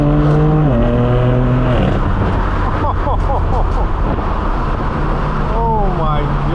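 A straight-piped BMW M4 F82 with loud exhaust on a downtown Los Angeles street at night: a close, roaring engine climbs and drops through gear changes with crackling revs, under steady talking.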